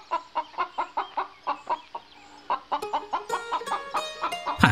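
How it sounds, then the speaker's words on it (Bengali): A chicken in a Bengali fairy-tale cartoon clucks in a steady series of short, even calls. The calls then grow quicker and busier, clear and close, with no talking. "আমি তোমার মুরগি নিয়ে এসেছি"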